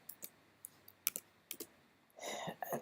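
Sharp, sparse clicks from a computer mouse or keyboard, quiet and close, a handful of isolated taps followed by a brief denser burst of clicking and noise.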